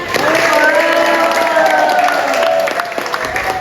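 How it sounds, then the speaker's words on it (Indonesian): Lively applause and cheering from a class of schoolchildren, a steady continuous wash of noise with a sustained tonal hum running beneath it. "Tepuk tangan yang meriah."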